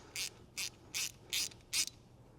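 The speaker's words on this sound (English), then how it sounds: "your 7mm socket or wrench and just get everything snugged down" A 7mm socket wrench ratcheting bolts snug on a Trail Icon pocket guard, five crisp bright clicking bursts in an even rhythm, close and clear against a quiet background.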